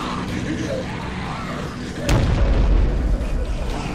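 An incendiary grenade goes off in the game Dead Island as a single loud, low boom that swells suddenly midway and lingers as a heavy rumble over steady game noise.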